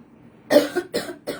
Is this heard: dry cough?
yes